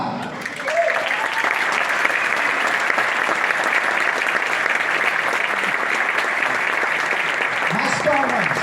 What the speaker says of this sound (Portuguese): Mais palmas